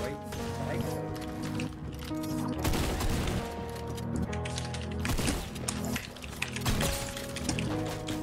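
Rapid bursts of gunfire in the video game Fortnite during a solo cash cup match, dense and continuous with sharp volleys mixed over game music and effects.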